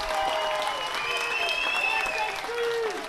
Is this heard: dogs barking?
no